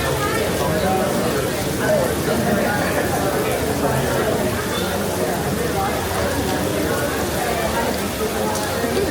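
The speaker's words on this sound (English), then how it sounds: "It started raining." Steady rain falls outdoors at EPCOT's Flower & Garden Festival, a continuous, fairly loud wash of patter that holds evenly throughout, with a murmur of crowd voices blended underneath.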